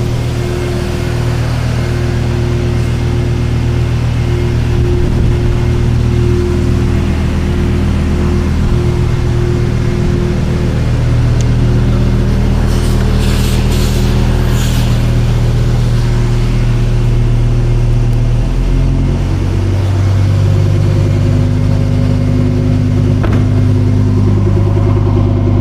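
A Lamborghini Huracan EVO set to Corsa mode idles with a loud, deep drone, and its pitch shifts up and down a few times as it is revved, recorded up close with no talk.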